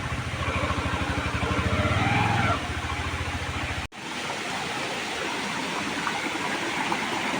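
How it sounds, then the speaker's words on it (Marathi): Water flows between rocks on the hill at Narendra Dongar temple near Sawantwadi in the Konkan, a steady broadband rushing heard close and continuous, broken by an abrupt cut partway through before the flow resumes. "असं दगडांच्या मधून पाणी आहे वरून वरती वरती"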